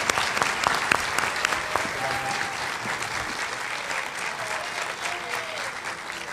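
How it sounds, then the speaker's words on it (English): A conference audience at the CUE 2012 opening awards applauds the Gold Disc winners, producing a thick wash of clapping that starts strong and continues steadily, with a few sharper individual claps standing out. "Let's applaud our Gold Disc winners."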